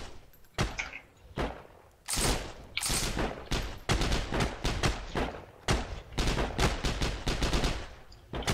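Repeated gunfire from the online World War II shooter game Heroes & Generals, with sharp bursts of rifle and automatic fire, some single loud shots and rapid volleys, close and dense throughout.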